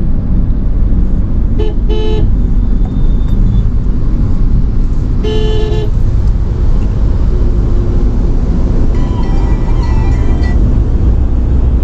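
A car travels along National Highway 16 past Ranihati toward Panchla, its steady loud road and engine rumble filling the scene, with a few short horn toots from nearby traffic breaking through at intervals.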